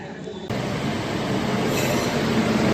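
A passenger train pulls into Bardhaman station with a loud, close rolling rumble and a steady metallic rattle of the carriages that keeps building for a few seconds.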